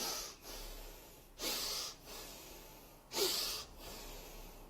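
A person imitates a horse's breathing as a pranayama exercise, two forceful, breathy snorting exhalations through the lips separated by quieter breaths, close and alone.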